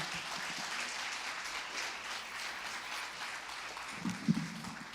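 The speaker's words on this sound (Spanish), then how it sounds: "Damos un fuerte aplauso al Señor" Steady, hissy applause from a church congregation runs throughout, fairly soft and diffuse, with a few low thumps near the end.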